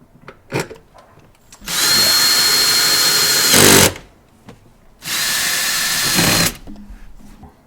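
A power drill drives a long machine screw into a Meso Customs pocket switch panel for a third-generation Toyota Tacoma, with the clutch set low. Two sustained whirring bursts of about two seconds each follow a few short taps, with quiet gaps between.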